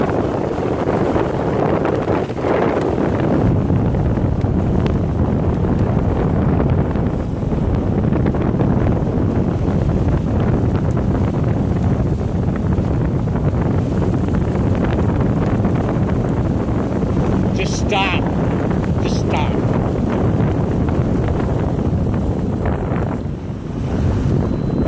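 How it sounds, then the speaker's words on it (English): Steady wind and water rush of a pontoon boat moving across open water, constant engine-and-wave noise with microphone wind buffeting throughout. "We're floating on the old pontoon boat."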